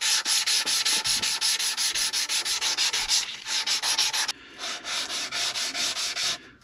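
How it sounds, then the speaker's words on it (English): Micarta knife handle being sanded by hand with steady back-and-forth rubbing strokes, close and loud, in a regular rhythm with a brief pause partway through and no talking. "whether it's wood or in this rich light mark micarta, and just sand it this way now"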